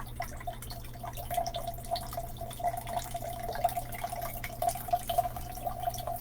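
Water drips and trickles from a partly frozen tap in an uneven, faint stream of small splashes over a steady low electrical hum, with no one speaking.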